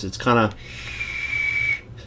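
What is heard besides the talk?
airflow whistling on Wismec Theorem atomizer at 52 watts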